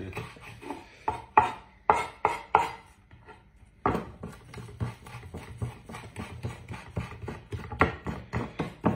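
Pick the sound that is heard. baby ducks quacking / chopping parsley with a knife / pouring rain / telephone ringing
chopping parsley with a knife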